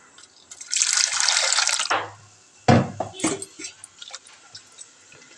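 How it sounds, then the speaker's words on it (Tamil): Water poured into a cooking pot while making ragi porridge, a splashing stream for about a second, then a few separate pours and drips that fade out. "இந்த பாத்திரத்துலேயே கொஞ்சமாக தண்ணி ஊற்றிக்கலாம் நம்ம"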